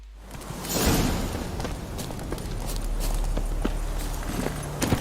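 Horse hooves while riding in The Witcher 3, a steady run of muffled hoof beats with swishing movement, close and moderately loud, with no voices.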